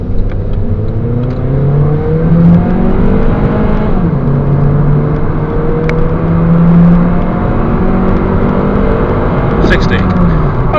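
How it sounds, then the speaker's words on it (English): A 2009 Honda Civic 1.8 automatic accelerating hard from a standstill to 60 mph, heard from inside. The engine note climbs steadily through gear changes, loud and continuous, over road and wind noise. "Okay, 0 to 60 test,"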